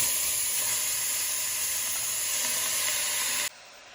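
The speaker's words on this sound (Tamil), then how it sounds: "நல்லா ஃப்ரை ஆகட்டும் ஆனியன்ஸு" Onions sizzle in a pan while frying for a cauliflower gravy, a loud, steady hiss that holds evenly and then drops abruptly to a much quieter fizz near the end.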